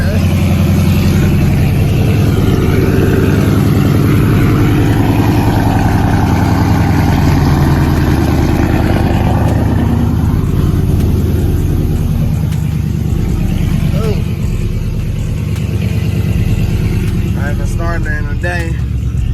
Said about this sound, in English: Don't rev it when it's cold. It does idle kind of about 1 RPM, so that's good too.